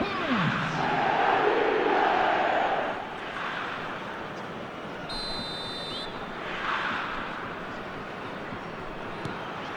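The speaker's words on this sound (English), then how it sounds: "The crowd are calling for this to be put to bed." A stadium crowd in an eFootball match roars and chants, a broad swelling wash of voices that is loudest early and then eases to a lower steady murmur with brief rises.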